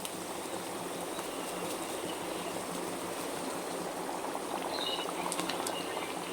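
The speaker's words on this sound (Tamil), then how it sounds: "இப்போ நல்லா எல்லாம் கொதிச்சு வந்துருச்சு." Egg curry masala gravy bubbling in a pan at home, a steady soft boil with a broadband hiss and gentle bubbling that holds evenly throughout, no voices.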